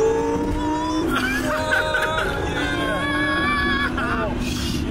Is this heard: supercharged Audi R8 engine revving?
yes